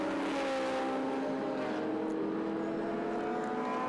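Historic sports race cars, led by a 4-cylinder 1.2-litre Triumph Spitfire with a Shelby GT350 and an MG behind, pass in a close bunch at Winton, their engine notes droning loudly and steadily and slowly shifting in pitch.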